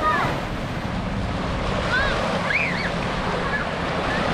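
Ocean surf on Fort Myers Beach, Florida, a steady loud wash of breaking waves with wind buffeting the microphone and faint distant voices or birds.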